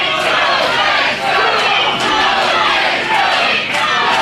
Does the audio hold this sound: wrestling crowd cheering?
yes